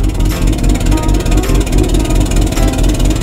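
A loud, steady engine rumble roars continuously at close range, throbbing and gritty with no pauses.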